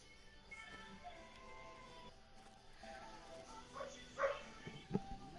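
Dogs barking indoors or just outside a home on a chilly day, a few short faint yips and barks near the end of a quiet stretch, with low background noise.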